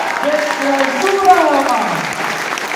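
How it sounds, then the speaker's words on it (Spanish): Applause from an audience at a closing tournament ceremony welcoming the first clausura champion team, sustained under a voice talking over it. "vamos a recibir, pero con un gran aplauso al equipo tú y Cris"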